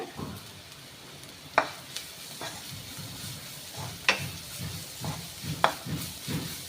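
Onions fry with turmeric in a pan for a bitter gourd fry, giving a soft steady sizzle broken by several sharp stirring scrapes and clinks, close and fairly quiet.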